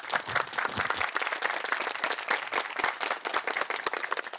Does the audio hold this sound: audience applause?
yes